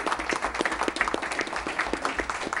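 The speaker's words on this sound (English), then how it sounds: "could we give them a round of applause?" Meeting audience at a city commission session applauding departing student members, a modest room of steady scattered clapping lasting a few seconds.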